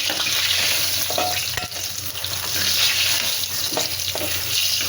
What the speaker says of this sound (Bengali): তেল গরম হয়ে গেছে, বেগুনগুলো ছেড়ে দিলাম।